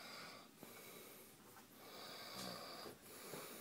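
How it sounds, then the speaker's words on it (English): A man snores in a barn, with slow, rasping breaths repeating about every second, faint and close amid low background noise. "Listen to my brother snoring."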